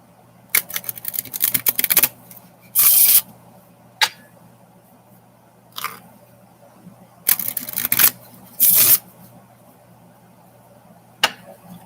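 Tarot cards are shuffled in quick riffling bursts, close and crisp, with brief card flips and taps between the bursts and quiet pauses in between.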